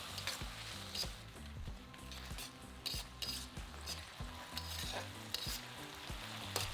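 Chicken being stir-fried in a wok with soy sauce, rice wine, chili bean paste and sugar for spicy Szechuan chicken: steady close sizzle with repeated scraping, clattering strokes of a spatula against the pan, no voices.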